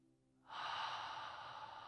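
A single long, deep cleansing breath drawn in during a guided meditation, a soft steady airy rush that rises suddenly and holds for over a second, close and alone with no talk.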